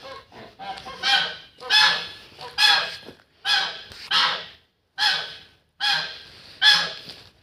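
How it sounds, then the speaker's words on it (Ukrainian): Geese honking in a series of loud, harsh calls, about eight bursts spaced roughly a second apart, close by with brief pauses between. "Гуси."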